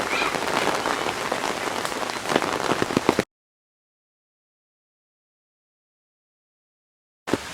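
Rain falling in Plovdiv, Bulgaria, a dense patter on nearby surfaces for about three seconds, then a long silence before the rain briefly comes back at the end.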